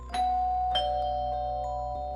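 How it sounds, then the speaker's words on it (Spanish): A doorbell rings at a house at night, two struck chime tones a little over half a second apart, each ringing out with a long sustained decay over a low steady hum. "Alguien estaba tocando el timbre de casa."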